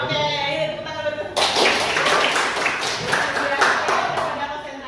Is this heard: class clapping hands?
yes